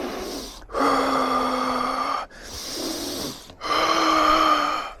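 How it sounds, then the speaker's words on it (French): Ujjayi breathing: long audible breaths drawn in through the nose and pushed out through the mouth, three loud, close, raspy passes separated by brief pauses, with no talking. "On va inspirer par le nez, expirer par la bouche et faisant du bruit en respirant comme ça."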